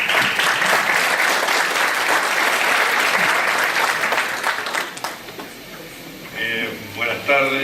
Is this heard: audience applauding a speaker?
yes